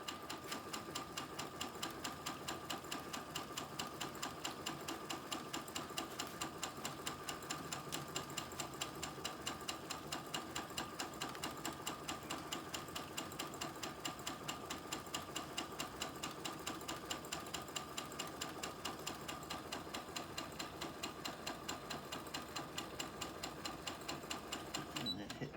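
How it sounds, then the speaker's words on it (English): A sewing machine stitches a cow head appliqué onto a quilt, its needle running in a steady, rapid mechanical rhythm throughout, close and continuous, with a voice talking over it. "Drop the needle down. Hit sew."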